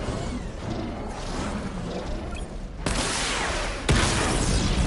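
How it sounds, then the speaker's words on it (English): A missile barrage from the Batmobile in Batman Arkham Knight: a rumbling, hissing bed of launches, then two sharp, loud bursts of impacts near the end. "Charge the missile barrage to level 2 to destroy up to 4 targets at once."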